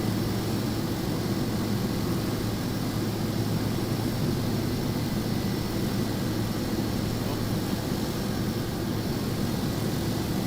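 An airplane taxis in the video game Microsoft Flight Simulator 2024, giving a steady, continuous low engine drone with a constant hum throughout.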